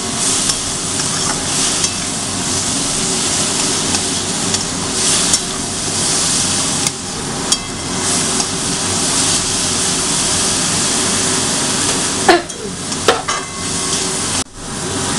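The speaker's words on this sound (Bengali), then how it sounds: "পেঁয়াজটা হালকা হালকা লাল লাল করে ভাজা হয়ে এসে" Onions fry in oil for Punjabi dal with a loud, continuous sizzle that fills the whole stretch, punctuated near the end by a few sharp knocks of a utensil stirring them.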